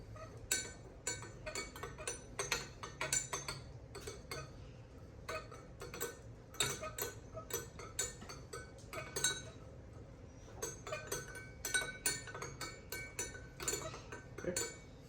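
Ferrofluid ingredients and oil are stirred in glassware, making quick, repeated close clinks and scraping taps in an uneven rhythm, fairly quiet with no talk.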